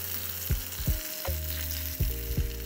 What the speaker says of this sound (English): Now some of the sausage's fat is actually rendering in.